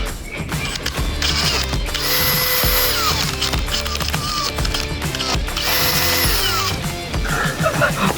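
A power drill runs continuously, a loud whirring, ratcheting drone with a rising and falling mechanical pitch, close by and with no talking.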